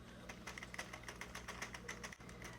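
A 48-needle circular knitting machine is cranked, giving a quiet, fast, regular clicking and ticking of needles at an even rhythm, close and alone with no talk.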